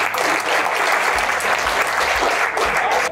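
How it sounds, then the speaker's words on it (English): A crowd applauds loudly after a performance, dense continuous clapping close by for about three seconds. "Can they get a big round of applause?"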